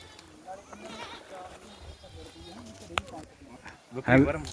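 Barbari goats bleat among general crowd noise at a livestock market, with one loud nearby bleat near the end and fainter calls earlier, over murmuring voices.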